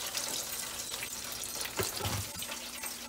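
Hot grease from a pan of browned chicken wings being drained, a steady liquid hiss and sizzle with a few clinks of the pan, close and continuous, no talking.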